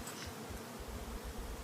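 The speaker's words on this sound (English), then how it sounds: "There's bees above us." Bees buzzing around a hive overhead inside a cave, a faint steady hum with low rumbling across the whole moment and no voices.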